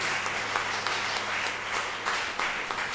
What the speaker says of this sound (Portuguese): Dá um aplauso a Jesus Cristo